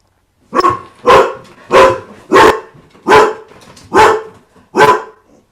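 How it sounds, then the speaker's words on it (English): A dog barks seven times in an even rhythm, each bark loud and close with short silent gaps between them. "sorry, that's my dog here"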